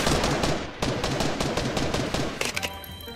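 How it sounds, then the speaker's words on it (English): Rapid automatic gunfire in Fortnite, the video game, rattles in a dense, continuous burst that thins into a few scattered shots at the end, with no one speaking. "Are they shooting at me?"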